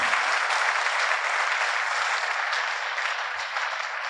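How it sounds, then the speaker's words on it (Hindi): A church congregation claps together in thanks to God during a Hindi sermon, a steady, full burst of many hands sustained throughout at even loudness with no talk over it. "ताली बजा के परमेश्वर के धन्यवाद करें।"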